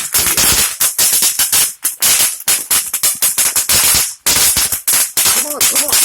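Red cap firecrackers go off close and loud, a dense string of sharp rapid pops and crackles bursting in quick uneven clusters, with brief gaps between volleys.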